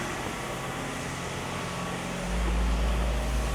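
A steady mechanical drone of pressure washers running nearby outdoors in Leeds, growing noticeably louder and deeper partway through, with no speech.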